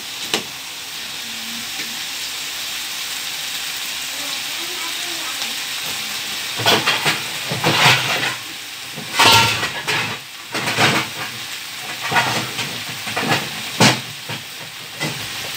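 Bean sprouts and vegetables sizzle and hiss softly in a hot pan, with bursts of louder clatter and scraping as they are stirred and tossed.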